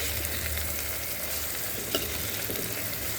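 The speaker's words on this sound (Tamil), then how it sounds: "நம்ம வெங்காயத்தை பார்ப்போம். நல்லா ஃப்ரை ஆகட்டும்ங்க." Sliced onions sizzle in groundnut oil for a prawn curry, a close, steady frying hiss with a soft stir or scrape partway through and no talking.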